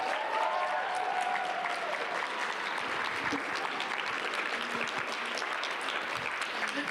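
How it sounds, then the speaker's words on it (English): An audience at a slam poetry night applauds in a sustained burst of dense clapping that fills the room, with a few whoops and voices mixed in throughout. "Let's get one more round of applause for Asia."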